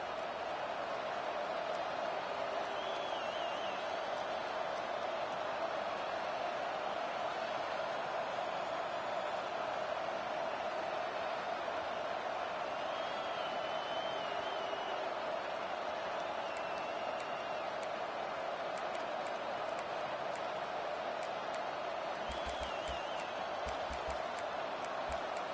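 A steady roar from a football stadium crowd continues unbroken at a constant loud level, with occasional whistles and whoops rising above the wash of noise.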